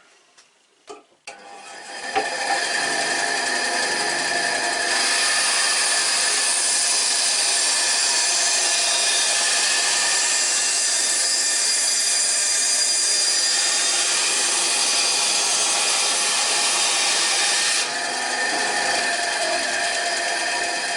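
A band saw cutting through 20 mm thick wood, starting with a few knocks before a loud, steady whine and rasp that holds for about twenty seconds, with no talk.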